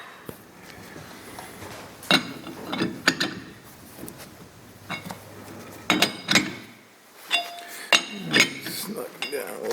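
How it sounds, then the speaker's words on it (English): Machine cutting worm gear teeth for a KitchenAid gear, irregular metallic clinks, rattles and grinding bursts in uneven clusters, fairly close, with quiet gaps between. "it's not really hobbing, but we're going to cut those gear teeth"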